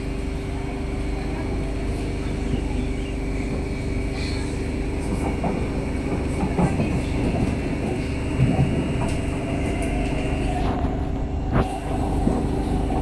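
A Singapore MRT train runs toward Jurong East, a steady rumbling hum of wheels and motors with a constant tone, while a recorded announcement voice speaks over it.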